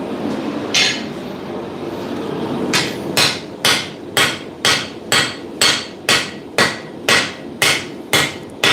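A smith's hammer strikes steel on a high-quality anvil during a smithing session, ringing blows in a steady rhythm of about two per second, loud and close, with no talking.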